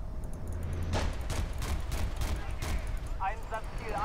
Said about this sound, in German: alle paar Sekunden nur zwei, drei Schüsse